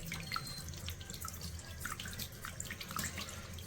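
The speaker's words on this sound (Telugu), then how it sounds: "అలా శుభ్రంగా కడుక్కోవాలి బాగా" Fish being washed under running water from a tap, a steady faint trickle with light splashes and drips, heard alone with no talk.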